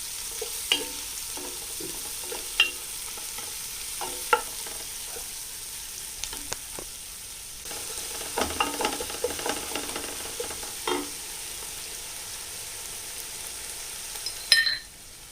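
Thinly sliced onions frying in ghee for chicken biryani, an even crackling sizzle throughout with scattered clinks and scrapes of a spoon against the pan, close and steady.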